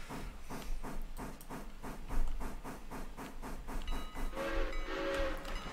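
A train in the railroad simulation game Railroader rolls along with a steady rhythmic clack of wheels over rail joints, joined late by a rising squeal and hiss as braking takes hold, moderately loud with no talking.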